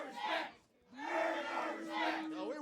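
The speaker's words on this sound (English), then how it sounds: "The crowd's chanting" Wrestling-show crowd in Portland chanting in loud, rhythmic waves, a brief lull after the first burst, then the chant swells again and holds steady with massed voices.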